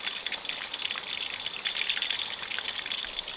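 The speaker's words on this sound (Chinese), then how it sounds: "等它慢慢的炸上2-3分钟，再去轻轻的推动它" Fish frying in hot oil in a pan gives a continuous close crackle and fizz, steady and moderately loud, with no voices.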